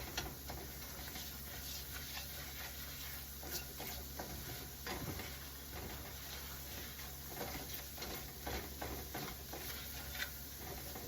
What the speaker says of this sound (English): Make a bit of a roux.